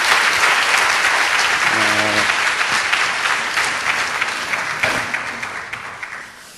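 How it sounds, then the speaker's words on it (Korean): A church congregation gives loud applause after a guitar performance and testimony, a full, steady roar of clapping that slowly thins and fades toward the end, with a brief sustained tone sounding partway through. "하나님께 영광의 박수 올려드리겠습니다"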